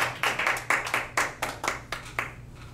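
Hands clap in a steady, even rhythm, about a dozen sharp claps in quick succession, fairly close and without any talk.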